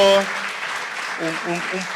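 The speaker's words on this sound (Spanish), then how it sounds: "un aplauso para Ezio" Audience applause for a speaker after a university panel discussion on a just energy transition, a continuous moderate patter of clapping beneath a voice that speaks briefly at the start and again near the end.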